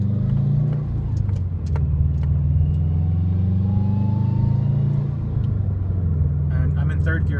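A 2011 Subaru WRX with a COBB exhaust accelerates in first gear, giving a steady loud low exhaust rumble that rises in pitch, heard up close, with someone talking over it.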